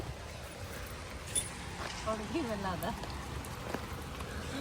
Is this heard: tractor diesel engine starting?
no